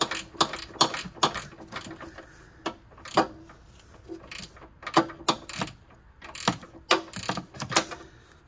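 A swivel-head ratchet wrench clicking in uneven bursts of sharp, close ratchet ticks with short pauses between strokes, worked on the front struts of a 2011 Lincoln MKX.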